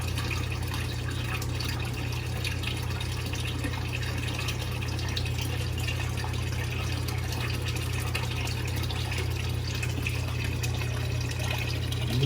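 Aquarium pump pushing water during a tank cleaning, a steady low hum under continuous bubbling flow and trickle that holds at an even level throughout.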